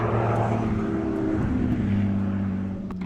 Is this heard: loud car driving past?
yes